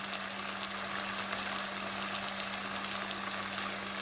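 Ginger and garlic fry in a pan for biryani, producing a continuous dense sizzle and bubbling hiss at close range over a faint steady hum, with no talking.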